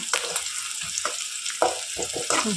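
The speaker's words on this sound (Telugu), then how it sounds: "ఆయిల్ హీట్ అయిన తర్వాత ఆనియన్స్ కరివేపాకు అయితే యాడ్ చేసేసాను" Onions and curry leaves sizzle in hot oil, with crackling bursts and a few stirring scrapes breaking through a steady frying hiss.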